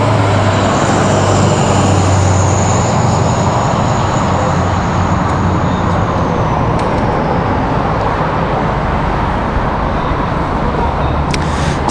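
A United airliner departing Washington Dulles airport, its engine roar steady and loud throughout and blended with nearby road traffic noise.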